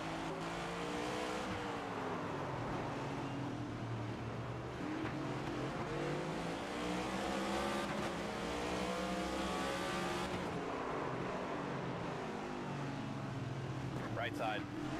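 Race cars roar around North Wilkesboro in a racing video game, engines droning and shifting pitch as the pack circles, with a voice talking over the steady engine noise throughout.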